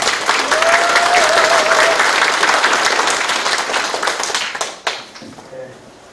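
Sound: audience applause for the mayor

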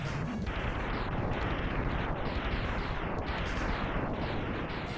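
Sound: ship exploding in video game Mega Man X

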